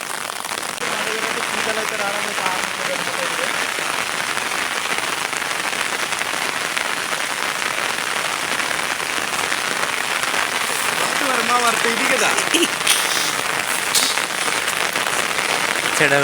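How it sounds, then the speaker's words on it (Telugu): Steady, dense rain pours down across the whole stretch, a continuous hiss with occasional faint voices mixed in underneath. "గడ్డ దగ్గర అయితే వర్షం పడుతుంది కదా"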